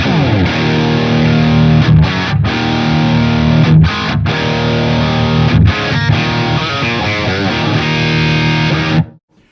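Thick, saturated electric guitar riffs with a heavier distorted amp tone, steady and loud with short pauses between phrases, played alone.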